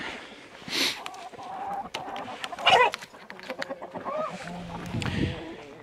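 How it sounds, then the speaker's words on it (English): Chickens cluck and squawk on a winter homestead, several birds calling close by in irregular bursts, with a voice speaking intermittently among them. "feed the chickens this morning"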